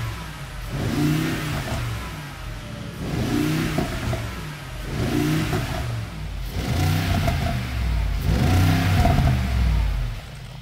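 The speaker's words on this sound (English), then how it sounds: "And of course, you still have the V8 and its wonderful sound." The V8 of a Mercedes G63 (463 generation G-Wagon) revs repeatedly, each blip swelling and falling in a steady rhythm of about five throttle pulls, loud and close with a deep rumble between them.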